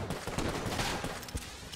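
Gunfire in the video game Enter the Gungeon sounds as a quick, faint burst of several shots in under two seconds.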